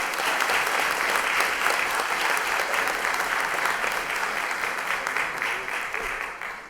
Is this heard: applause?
yes